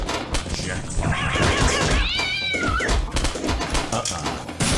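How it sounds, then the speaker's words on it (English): A cat meows from the video game Postal 2: a single rising then falling yowl rings out over busy, loud game and pinball noise. "I like the sound of kittens being tortured."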